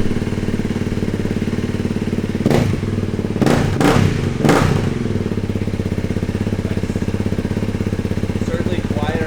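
A Honda CRF300L motorcycle fitted with a Yoshimura RS12 exhaust idles close by with a steady, throbbing pulse. A few sharp thuds or revs stand out midway through the clip.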